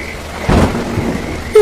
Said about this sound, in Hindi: बिजली कड़की